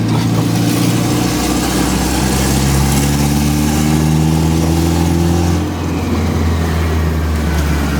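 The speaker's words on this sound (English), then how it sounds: "Turbo sounds so fucking good, bro." A turbocharged B18C engine in a 1996 Honda Civic EK hatchback drones loudly and steadily for the whole stretch, with a smooth rising engine note and no voices.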